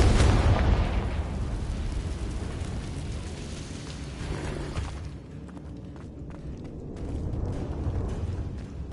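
Confringo spell explosion in a Hogwarts video game: a heavy booming blast up front that rumbles and fades, followed by lower crackling debris and movement.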